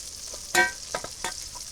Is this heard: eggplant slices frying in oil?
yes